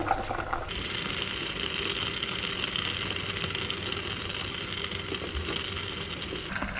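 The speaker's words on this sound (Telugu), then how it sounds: "మామిడి ముక్కలు వేసేస్తున్నానండి." Mango pieces tipped into a simmering Nellore fish curry, with a steady wet hiss and bubbling of the pot running unbroken and close throughout, fairly loud and with no talk over it.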